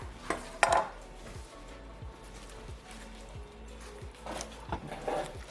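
A knife slicing through smoked brisket on a cutting board, a series of soft rhythmic cutting strokes with a couple of louder knocks against the board, close up.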